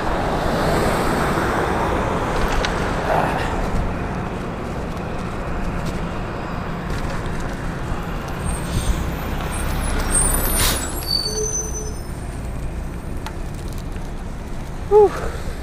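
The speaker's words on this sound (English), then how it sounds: "Cars everywhere, trucks everywhere." Road traffic of cars and trucks heard from a bicycle on a morning commute: a loud continuous roar of passing vehicles and wind, with a sharp hiss like an air brake midway and a brief squeal near the end.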